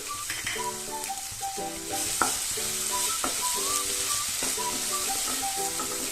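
Tomatoes fry with ginger garlic paste in a pan while a spoon stirs them. A bright, steady sizzle runs throughout, and close scraping strokes and clinks against the pan recur at regular intervals. Nobody speaks.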